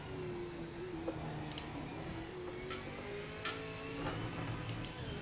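A British touring car engine drones steadily in the Project Motor Racing game, a continuous mid-pitched hum with small pitch shifts and occasional faint ticks, heard at moderate distance.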